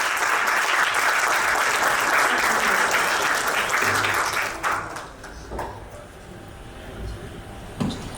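A seated audience gives a loud burst of applause for the economist Marina Dal Poggetto, which fades away after about five seconds into room noise and a few scattered claps.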